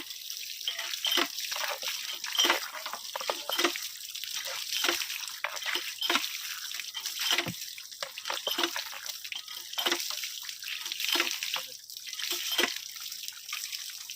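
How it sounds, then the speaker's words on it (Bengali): A knife rinsed under a running kitchen tap, with a steady close stream of water and irregular splashing and dripping throughout, alone without talk. "ছুরিটা ধুয়ে নেওয়া হবে।"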